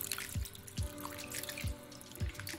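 Poha, flattened rice, is rinsed in water, with a few soft low sloshes and drips over a quiet, steady watery background.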